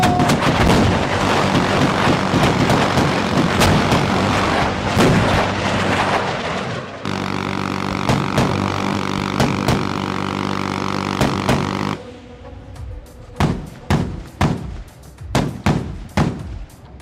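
Live artillery and weapons fire during a military firepower training exercise, with a dense barrage of loud booming shots and blasts that later thins into scattered, separate reports with echoing decay.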